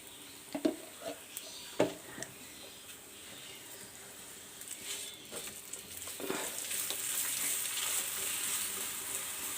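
Keema naan fries in ghee on a flat pan with a soft, steady sizzle that grows slightly louder toward the end, preceded by a few brief knocks and taps early on.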